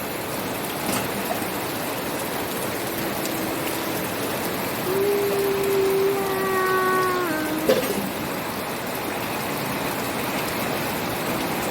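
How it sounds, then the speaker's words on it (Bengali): Steady hiss of rain falling on surfaces, with a brief tonal whine rising in the middle and a sharp knock. "দেখো কেমন বৃষ্টি হচ্ছে।"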